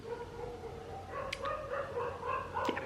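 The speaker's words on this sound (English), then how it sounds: "The dogs are barking again." Dogs barking somewhere outside a room in Rishikesh, India: a few scattered barks and yips from a moderate distance over a steady background hum, with no talk.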